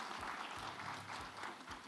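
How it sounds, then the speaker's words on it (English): A conference crowd at a closing ceremony claps continuously, a dense, even patter of many hands with no voices rising above it. "Hand of applause for yourselves."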